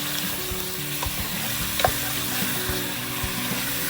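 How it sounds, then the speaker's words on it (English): Food frying in a pan over a camp stove at a busy campsite, a steady close sizzle with a few light stirring scrapes, no voices over it. "Right, we'll fry that off."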